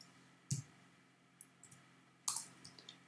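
A few sharp, quiet clicks of keys being pressed on a computer keyboard, two louder taps and several fainter ones, spaced irregularly over a near-silent background.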